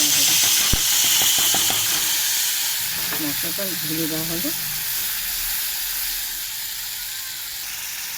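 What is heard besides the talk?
spice paste bubbling in pan after adding water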